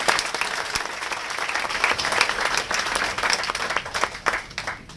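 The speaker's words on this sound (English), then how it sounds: "Let's give him a round of applause" Dense, steady applause from an audience thanking a man named Andy, many hands clapping together at an even level without a break for about five seconds.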